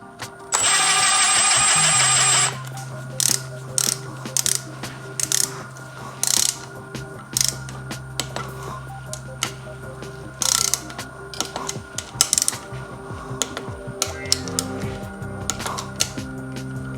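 A ratchet clicks in repeated short bursts of pawl chatter, separated by pauses, as bolts are torqued down on a Yamaha YFZ450R engine top end during a rebuild. A brief high-pitched whine near the start, no talking.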